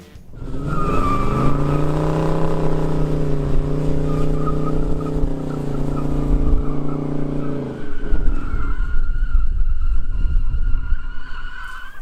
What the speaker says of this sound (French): c'est tellement sec en fait, cette terre séchée, quand tu fais des donuts, mais t'as les pneus qui crissent